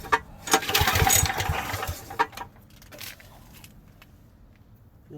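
Troy-Bilt 5550/8550 watt generator engine cranking with a rough burst of pull-start effort, then a brief sputter and a few uneven catches that fade to a low, faint idle.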